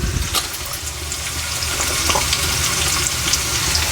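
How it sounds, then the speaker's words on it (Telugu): Chopped onions frying with salt in a hot pan for a festival goat curry, a steady close hiss and crackle of sizzling oil with no talk. "ఉల్లిగడ్డలు కొంచెం వేగాలి మనకు మంచిగా కొద్దిగా అంతా సాల్ట్ వేద్దాం తొందరగా వేగుతాయి మనకి"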